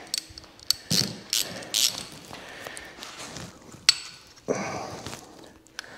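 A ratchet clicks in short bursts while tightening T30 bolts on the brakes of a Can-Am Maverick X3, close up, with brief pauses and faint handling noises between strokes.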